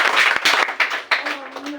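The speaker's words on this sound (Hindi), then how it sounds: "ताली स्वागत कीजिए इनको।" Applause from an audience welcoming teachers at a school results gathering, a burst of clapping with sharp claps rising and falling over under two seconds, mixed with voices in the room.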